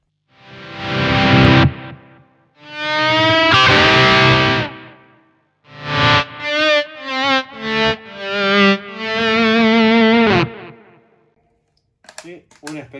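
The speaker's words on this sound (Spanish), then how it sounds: "¿Y por qué no le sumamos el Big Sky para reverb?" Electric guitar through a pedalboard with a Big Sky reverb pedal adds washy tails to loud distorted chords and quick picked notes, ending in faint clicks.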